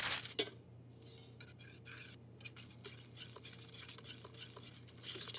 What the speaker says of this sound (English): Just whisk it until it's smooth.